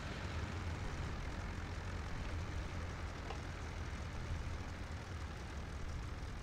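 Aircraft landing in the IL-2 Sturmovik flight game, tail wheel first, a dense, steady engine and propeller roar with broad rushing noise, loud and unbroken.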